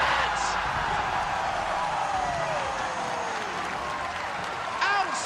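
Recorded crowd audio plays back as a steady roar of cheering and applause, held at an even level under occasional faint whistles.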